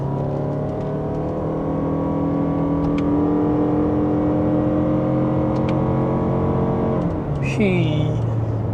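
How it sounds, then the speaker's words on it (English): A Toyota Alphard 40 hybrid with a 2.5L engine and e-CVT accelerates using the paddle shifters, its engine whir rising steadily inside the cabin, then easing off near the end; a voice speaks over it. "time to test the acceleration over here. I'm going to use the pedal shifters."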